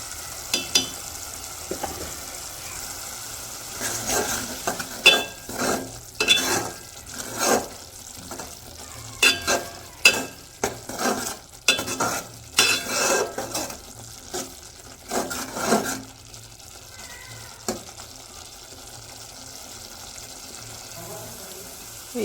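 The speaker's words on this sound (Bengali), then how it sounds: "এই যে মশলাগুলো ভালো মতন কষাই নিছি" Spices with chili powder fry in a pan on a clay stove while a spoon stirs and scrapes in uneven bursts, with a soft sizzle running underneath at close range.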